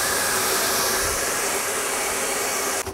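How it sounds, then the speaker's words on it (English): A hair dryer blows steadily and loudly at close range during a short haircut, its broad whooshing airflow running without a break and cutting off at the very end, with no voices. "you can take the back end of your blower and cool it down, sucking the hot air out of it"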